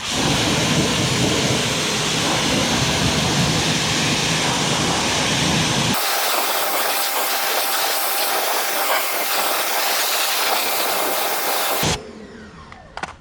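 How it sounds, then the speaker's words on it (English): Water rinsing a 2020 Dodge Charger Hellcat Widebody during DIY detailing, heard as a loud continuous hiss of spray that changes character midway, then cuts off abruptly near the end. "let's go ahead and rinse her off"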